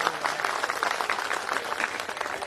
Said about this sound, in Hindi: एक बार जोरदार ताली अपने लिए।